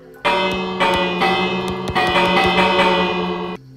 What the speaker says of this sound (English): I found another bell, and it's time to ring it.